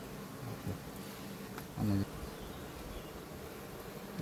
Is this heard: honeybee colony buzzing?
yes